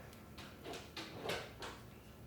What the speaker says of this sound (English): That is the sound of my dog trying to get in the house.